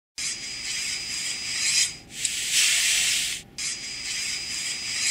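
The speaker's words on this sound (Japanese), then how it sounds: "冷媒が配管の中を流れる音です。" Refrigerant flows through the piping of an air conditioner indoor unit with a steady, close hiss-like swish, briefly dropping out twice before resuming, with no talking.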